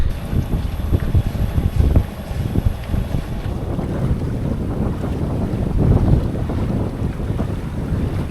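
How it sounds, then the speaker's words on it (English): A sailboat runs fast under sail on an evening sunset passage off the Baja coast, with steady roaring wind buffeting the microphone over continuous rushing water along the hull, loud and close throughout, no talking. "We're out of the gate and sailing fast. A little sunset sail action."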